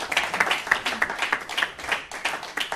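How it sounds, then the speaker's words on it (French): A small group claps at a ceremony honouring someone, a brief run of distinct, fairly quick hand claps at moderate volume, individual strikes audible rather than a dense roar. "Sous vos applaudissements, bien sûr,"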